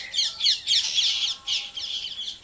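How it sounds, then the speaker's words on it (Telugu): Birds call loudly in a quick series of harsh, chirpy squawks on a foggy morning, close by and with no other sound. "మార్నింగ్ మార్నింగ్ పక్షులు"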